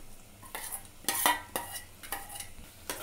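Mutton pieces are stirred into masala in a pan with a spoon, giving a series of soft scraping, clinking strokes at a steady rhythm over faint sizzling.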